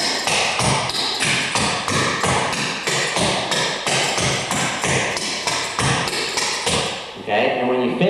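Rapid, continuous clogging shoe taps and stomps, loud and close, in a steady driving rhythm that breaks off briefly near the end.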